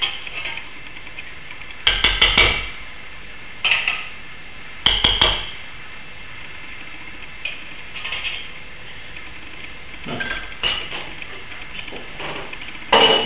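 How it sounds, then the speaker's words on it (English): A spoon scrapes fat off homemade stock in a pot, giving intermittent metallic clinks and scrapes in short bursts separated by quiet pauses, close by with no talking. "Scrape out all the fat."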